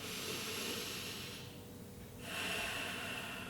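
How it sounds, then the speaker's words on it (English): Deep, slow breathing sounds close up: a long airy inhale, a brief pause, then another breath drawn in, soft and hissing with no talk. "breathe in and breathe out"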